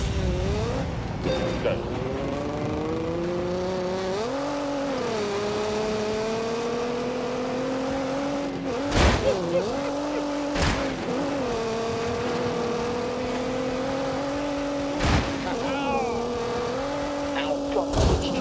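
A race car engine holds a steady, rising and falling whine through a flying lap in The Grand Tour video game, with brief sharp bursts cutting in, while a voice speaks over it.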